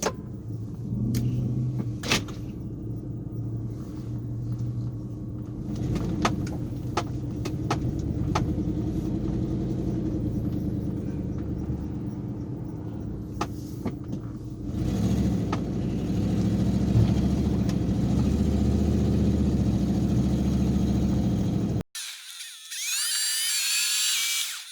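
A 1998 Ford Expedition on a test drive: steady engine rumble and road noise from inside the cabin with occasional clicks and bumps, the tone shifting midway, then a sudden cut to a brief louder, brighter passage at the end.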